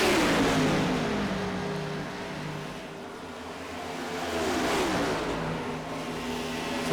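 Race car engines at Michigan in iRacing, multi-class field with Next Gen stock cars and Cadillac CTS-V cars, revving and sweeping past in waves of rising and falling pitch, no talk.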